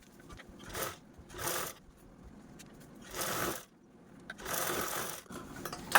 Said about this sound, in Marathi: मी या झिपवरती पण दापटीप दिलेली आहे